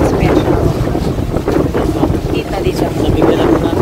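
Small boat with an outboard motor running near Puerto Galera, a steady engine drone heavily buffeted by wind noise and nearby water, continuous and close throughout.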